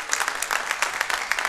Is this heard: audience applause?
yes